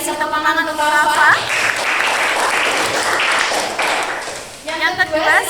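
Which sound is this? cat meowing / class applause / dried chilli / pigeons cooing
class applause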